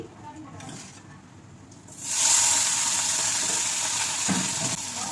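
Pabda fish frying in a pan of hot oil, a loud steady sizzle that surges in after a quieter opening, with a brief clatter near the end.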